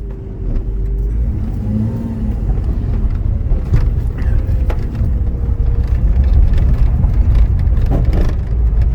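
A 1999 Porsche 911 (996) Carrera, fresh from a wheel bearing replacement on a farm, pulls away with a loud, close, steady low engine rumble that swells slightly as it drives off.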